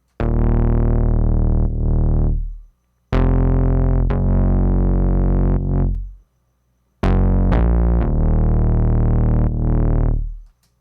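A loud, sustained chord progression plays on an Arturia OP-XA V synth with Shaperbox 3 drive, giving it a thick, gritty tone. The bass-heavy chords swell and cut off in long phrases, with no talking.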